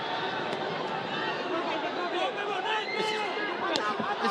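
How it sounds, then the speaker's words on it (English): A boxing arena crowd roars on its feet in a steady, dense wash of cheering and babble while a commentator talks over it. "The crowd on their feet."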